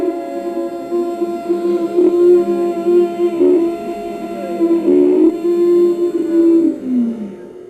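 A long Ujjayi pranayama in-breath drawn through a tightened throat, a steady hissing rasp with wavering hum-like tone, close and fairly loud, stretching over several seconds without speech.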